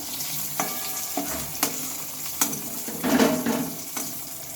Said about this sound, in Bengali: এইভাবে হালকা আঁচে মুছে মুছে করে লাল লাল করে এগুলোকে ভেজে নিতে হবে